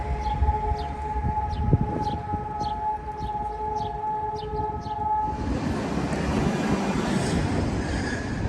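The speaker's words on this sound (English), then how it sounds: "So the loud sound of a siren" A loud, sustained memorial siren for the fallen wails at a steady pitch for several seconds in Jerusalem, then gives way to a broad rushing roar of wind or traffic.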